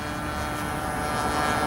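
A 60-size Reactor RC biplane flies overhead, its engine giving a steady, fairly loud droning whine that swells slightly toward the end, with no talk over it.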